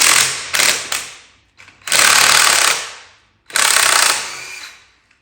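Socket ratchet working loose old, rusty bolts while dismantling the chassis of a split-window coupe: three bursts of rapid, loud, close clicking, each trailing off, separated by short pauses.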